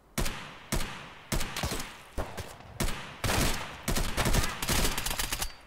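AK rifle fire from a sniper scav in the Escape From Tarkov woods, loud bursts of gunshots in an irregular rhythm, single cracks early then clustered volleys, close and sharp with no talking.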